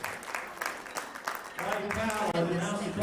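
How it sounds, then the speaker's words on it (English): Crowd applause at a USA Powerlifting bench press nationals meet as a technical controller is introduced, a dense steady clapping that swells and holds loud after a brief lead-in of talk. "Big round of applause."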